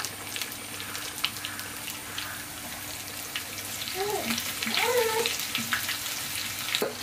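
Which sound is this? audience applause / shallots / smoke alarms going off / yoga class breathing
shallots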